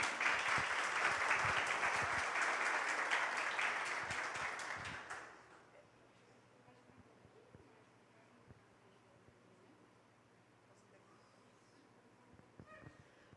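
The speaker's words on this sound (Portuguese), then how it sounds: "Uma salva de palmas para a Lilian" Audience applause at an agribusiness auction evening, a dense wash of clapping for about five seconds that fades out, leaving quiet room tone with faint stirring.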